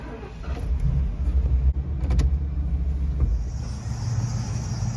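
A 1991 Ford Econoline motorhome drives along, its engine a low steady rumble under road noise with a few cabin rattles and clicks, heard from inside.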